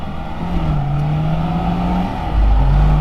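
A Lada car's engine revving as a learner driver works the clutch, a droning engine note that holds, dips and then rises louder near the end, heard from inside the car.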